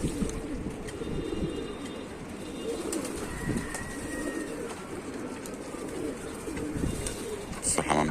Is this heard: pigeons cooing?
yes